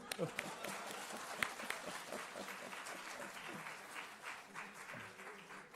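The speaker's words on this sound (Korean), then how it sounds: "자, 우리 박수." A church congregation at a night prayer meeting applauds, quiet scattered clapping from a crowd that swells and then tapers, with voices in the background.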